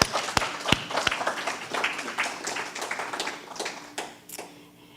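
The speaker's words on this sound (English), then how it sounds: "So let us just give her a round of applause." A church congregation at a Sunday celebration service applauds a member's retirement, with sharp, close individual claps at first building into dense clapping that gradually fades away toward the end.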